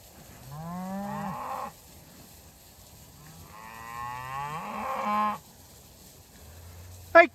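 Cattle on a winter ranch give two long, loud moos, one after another with a short gap between them, and a brief sharp noise follows at the very end.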